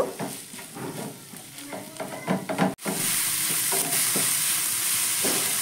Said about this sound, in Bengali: সয়াবিনটা আমি একটু ভেজে নেব।